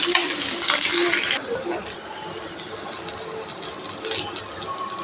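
Onions sizzling in hot oil in a pan for a tamarind curry with dried fish, a steady loud frying hiss with an initial stronger crackle that settles down.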